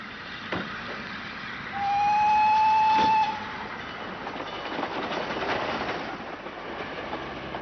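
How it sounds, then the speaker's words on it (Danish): A 1949 steam locomotive hauling a passenger train on rails near Skagen, Denmark: a steady rumbling roll with faint clatter, and a long, clear steam whistle blast partway through. "Andre rejsende foretrak at lade sig transportere på skinner i et tog, forspændt et ægte damplokomotiv."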